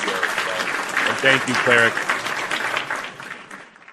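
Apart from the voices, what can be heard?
round of applause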